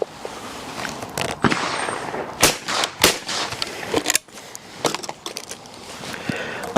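Shotgun shots from a 28 gauge or .410 fired at clay targets, several sharp loud cracks spread irregularly across the span, some followed by fainter distant reports over outdoor background noise.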